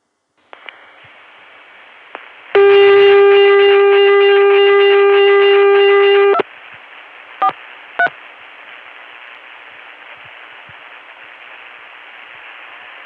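A telephone rings once over a T-carrier trunk line after dialing on a Chicago dial tone, sounding as a loud, harsh, buzzy tone with a hissy line background and a couple of brief clicks afterward.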